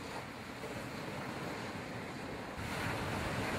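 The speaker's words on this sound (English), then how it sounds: "These motherfucking waves, man." Ocean waves wash onto the shore of Cozumel island in a steady, loud roar of surf mixed with wind buffeting the microphone, swelling slightly toward the end.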